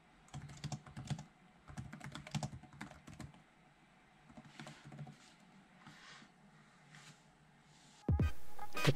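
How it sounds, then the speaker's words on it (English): Quick clusters of soft taps on an HP Omen 15 laptop keyboard clatter in bursts with short pauses, close and fairly quiet, ending in a brief louder noise. "The typing on this keyboard sounds like this."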